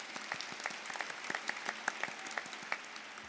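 Sparse, scattered clapping from a small audience, quiet and somewhat distant, with irregular individual claps.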